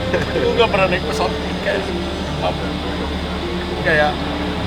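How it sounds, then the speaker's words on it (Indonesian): Steady broadband engine drone from a Caravan aircraft heard inside the small cabin on a humanitarian flight, a constant loud hum filling the space while people talk over it. "Pesawat karavan mengangkut kami dengan standar keselamatan"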